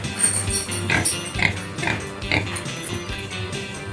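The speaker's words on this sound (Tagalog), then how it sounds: "tignan ninyo yung baboy ng alaga ni sister ko" Pig on a Filipino family farm oinking and grunting repeatedly in short bursts, fairly close, with farmyard background noise and no talk over it.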